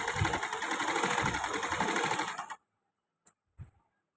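A sewing machine stitches a hem on cloth, a close, steady whirring run of about two and a half seconds that stops abruptly, followed by a couple of faint clicks.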